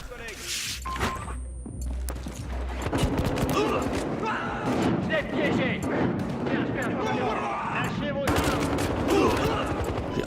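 Rapid bursts of M16A3 rifle fire during a Battlefield Hardline multiplayer match, dense repeated shots with other in-game gunfire and effects around them, fairly loud and continuous, with voices talking over parts of it.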